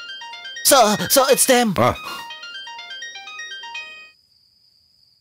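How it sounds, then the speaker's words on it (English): A telephone rings with a bright electronic ringtone that carries on steadily under a short burst of loud male speech, then fades out and stops near the end. "The phone's ringing."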